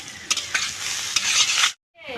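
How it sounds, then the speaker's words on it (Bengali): Onions frying in hot mustard oil with dried chillies, bay leaf and cumin, a steady loud sizzle with a few stirring scrapes, cutting off abruptly before a brief quieter return. "লাল করে ভাজা হয়ে গেছে এখন আমি পেঁয়াজ ভেজে নিচ্ছি"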